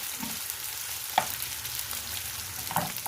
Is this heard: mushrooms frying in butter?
yes